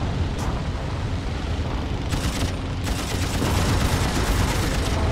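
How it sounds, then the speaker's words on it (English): Gunfire aimed at a biplane in the flight combat game Wings Remastered, with dense crackling bursts over a steady engine drone and heavier rattling toward the end. "Somebody managed to shoot at me from all the way up here."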